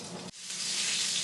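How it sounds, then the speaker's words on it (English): A piece of chicken wing sizzles in hot oil in a pan, a bright crackling hiss that jumps up suddenly and holds steady and close, with no talking. "So right away it's starting to sizzle"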